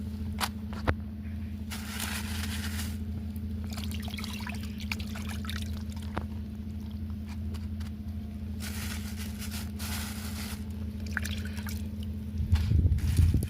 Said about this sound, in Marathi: ते आपण मस्त धुवून घेऊ पाण्यामध्ये.